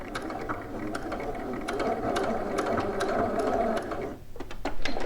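A sewing machine back stitches at the end of a row of stay stitching on a dress bodice, a close, continuous mechanical whir with ticking clicks that hold steady throughout.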